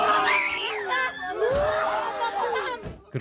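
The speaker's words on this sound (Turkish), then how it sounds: "yakınlarının acı haykırışları yürek yaktı" Relatives of a 45-year-old mine worker cry out and wail in grief as his body is brought up at a mine, with loud, sustained anguished voices and shouting mixed with crowd noise.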